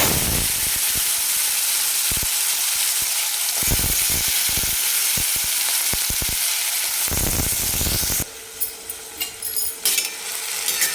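Capsicum sizzles as it is tossed into hot oil with cumin and turmeric for a Maharashtrian-style sabzi. A steady crackling hiss with scattered spoon clicks turns into a louder, busier sputter near the end.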